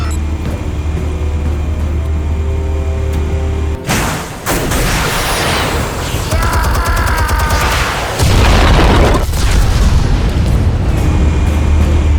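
Explosives detonate in the Batman Telltale video game: a sudden heavy blast cuts through the ambient score and is followed by crackling debris and rumbling. The low drone returns afterward.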